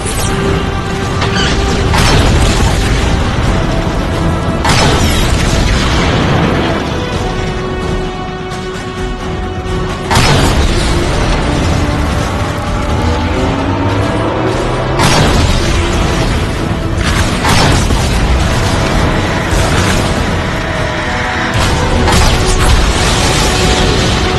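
Tank cannon fire and explosions from Decepticon tanks in Transformers: Fall of Cybertron, a dense and loud battle of repeated booms and crashes over continuous mechanical rumble and clatter.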